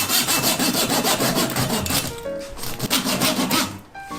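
A handsaw rasps through the hard shell of a giant spiny sea urchin in steady, rapid back-and-forth strokes, loud and close, with a brief pause midway before the sawing resumes.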